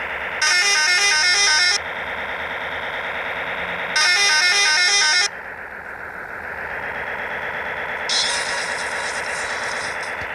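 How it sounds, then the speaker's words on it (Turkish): A truck horn in the game Cargo Simulator blares in long, loud blasts, three separate honks over a steady engine rumble, with a brief tonal shift between them. "Şöyle kornamızı da çalalım."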